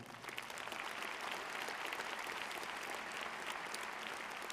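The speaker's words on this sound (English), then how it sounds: "Please join me in a round of applause for every person who helped to make today possible." Sustained audience applause fills a university graduation commencement ceremony, a dense, even wash of many hands clapping at steady volume from start to finish with no pauses.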